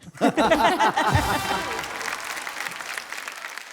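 Audience applause breaking out at a Hindi kavi sammelan poetry show on a family TV program, a brief voice and laughter at the start, then steady clapping from a crowd that continues and slowly thins out.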